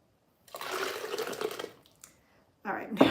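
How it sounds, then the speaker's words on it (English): Water poured into a glass container holding dry beans, a fairly loud splashing pour for about a second, a brief drop, then another short pour near the end, with no talk over it. "I'm going to go ahead and pour a little bit more of this water so all my beans fit in there."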